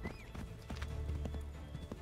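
Horse hooves clip-clopping in Assassin's Creed 3, a quick steady rhythm of close hoof strikes over continuous game ambience, with a brief whinny-like tone near the start.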